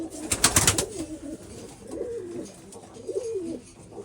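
Pigeons coo in low, rolling phrases inside a coop, with a burst of rustling and flapping near the start.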